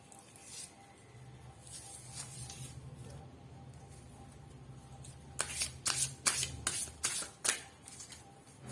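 Tarot cards shuffled by hand, a soft riffling rustle at first, then a run of quick, crisp card snaps and flicks close up near the end as cards are drawn, with no talking.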